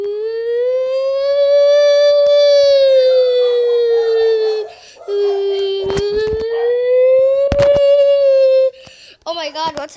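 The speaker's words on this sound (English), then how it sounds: "I hear a siren." Wailing siren during an earthquake in the Melon Playground video game, a loud rising and falling tone that cycles slowly, briefly dropping out midway, with sharp crashing bursts and a few voice sounds near the end.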